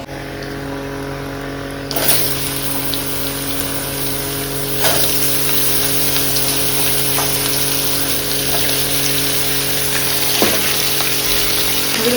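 Vegetables sizzle steadily in a frying pan, a continuous broadband hiss with a few soft clicks and clatters from stirring, close and fairly loud with no talking.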